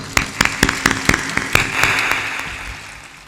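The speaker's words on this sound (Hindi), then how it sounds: "ताली बजा दो।" An audience at a spiritual gathering claps, starting with several sharp, evenly spaced claps that swell into a sustained round of applause and then slowly fade out, with no talking.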